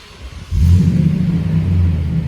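A 2015 Toyota Tundra SR5 fitted with an aftermarket Flowmaster exhaust starts up, giving a sudden loud, deep rumble that settles into a steady, throaty idle close by.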